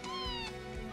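A cat gives a single drawn-out meow, clear and close, with a steady tonal wail lasting about a second over quiet game background sound.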